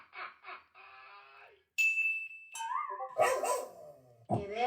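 A dog gives a few sharp barks and yelps amid excited, chaotic activity, loud and close, mixed with bursts of other noise and some voices.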